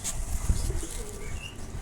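Soft, low pigeon cooing murmurs close by, a few throaty coos over quiet background rustle.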